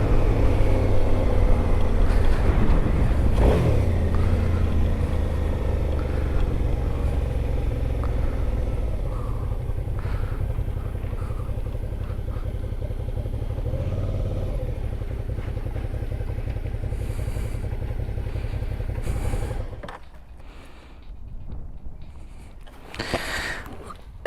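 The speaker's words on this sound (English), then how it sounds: "Alright, so this is the bike. It's a 2017 V-Strom" A 2017 Suzuki V-Strom 650XT motorcycle engine runs steadily and loud and close for most of the stretch, with a rising rev near the start, then drops off and quiets toward the end.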